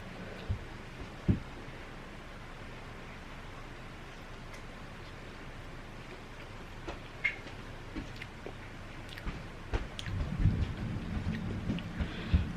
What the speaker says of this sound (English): Can you hear the thunderstorm? It's really loud today.